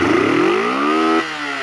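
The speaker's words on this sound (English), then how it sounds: "That's some Cafe Racer revs right there." A Honda CB125T motorcycle engine with freshly cleaned carburetors revs up, its loud buzzing pitch climbing smoothly and then dropping sharply back toward idle. No one speaks.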